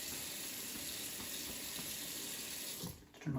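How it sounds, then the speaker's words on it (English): Steady broadband water pouring from a sink tap during a hand-washing demonstration, continuous and fairly loud for nearly three seconds, then cutting off with a few brief handling knocks as the flow stops. "use your towel to turn off the water"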